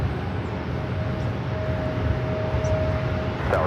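A Delta Airlines Boeing 757 arriving at LAX produces a steady broadband jet roar with a faint high engine whine, continuous and moderately distant, with no talk.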